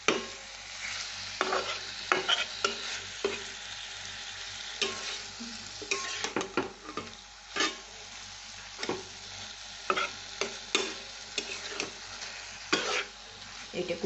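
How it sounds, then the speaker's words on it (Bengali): Onion sautéed with a ginger, garlic and coriander paste for a green egg curry, sizzling steadily in the pan while a spoon scrapes and stirs it in irregular bursts, close and clear with no talking. "এটা কষে নিই, কষে একটু ভালো করে কষে পেঁয়াজ"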